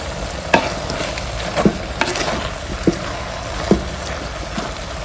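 Fresh greens palya being stirred and fried in a pan: a steady sizzle runs throughout, broken by several sharp scrapes and knocks of the spoon against the pan, close and alone with no talk.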